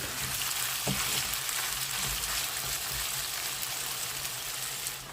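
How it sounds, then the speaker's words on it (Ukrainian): Continuous loud sizzling and crackling of liver frying in a hot pan, close up, with faint stirring noises and no talk. "Ось так смажиться."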